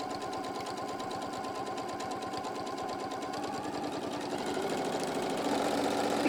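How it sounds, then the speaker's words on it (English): Sewing machine top stitching a quilting project: a steady, rapid mechanical chatter close by that runs without pause and grows slightly louder toward the end, with no talk. "let's just go ahead and top stitch all of them."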